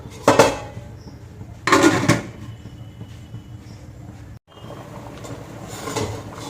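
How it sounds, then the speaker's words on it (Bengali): A pot lid is lifted and set down on a pot of chicken khichuri, giving two loud metallic clatters a moment apart, followed by a quieter scrape and low kitchen noise. "ঢাকনা তুলে নিয়েছি"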